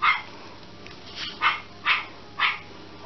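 A dog barks four times in a steady, evenly spaced run, close and clear, with nothing else competing and no one talking.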